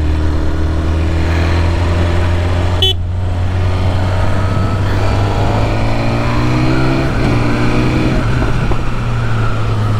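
A 2022 BMW S 1000 RR with an Atalla stainless steel 304 header revs loudly and close, its exhaust droning and rising in pitch, with a brief sharp pop partway through.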